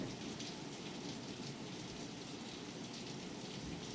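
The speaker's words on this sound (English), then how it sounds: "it's raining outside." Rain falling outside, a dense continuous hiss of drops on surfaces with no pauses, steady and fairly loud throughout, no voices.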